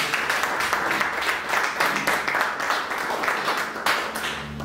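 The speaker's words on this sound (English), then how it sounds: "Let's give another clap." Sustained clapping from a church congregation following a prayer: many hands at once form a thick, continuous wash of claps that stays even and fairly close throughout, with no talking on top.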